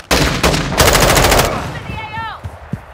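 Loud, close bursts of rapid automatic gunfire ring out in a Call of Duty Modern Warfare match, a dense rattling stream that trails into ringing echoes and a couple of later single shots.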